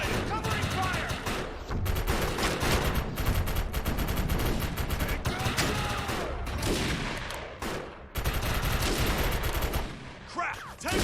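Rapid automatic gunfire in a military shooter video game, dense sustained bursts of shots rattling almost continuously with brief gaps, loud and close, with a voice calling out over the shooting.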